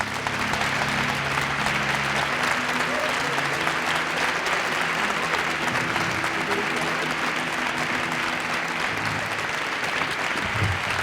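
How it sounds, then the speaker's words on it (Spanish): Studio audience at a Spanish comedy talk show bursts into loud, sustained applause that fills the room evenly from start to finish, with a few faint voices mixed underneath. "Un fuerte aplauso para Juan Carlos Ortega, Arturo González Cam"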